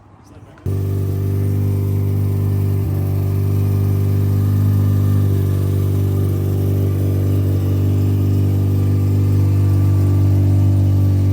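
A Mazda RX-7 FC3S rotary engine runs loud and close, holding a steady throttle for about ten seconds after a brief quiet start, with a deep sustained drone and no audible talk.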